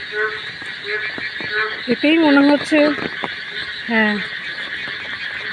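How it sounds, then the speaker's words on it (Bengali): Frogs croak in rapid pulsing bursts from flooded rainy-season fields beside a house, layered over a constant high insect drone, while a person speaks briefly nearby. "দেখেছেন কীভাবে ব্যাঙ ডাকছে"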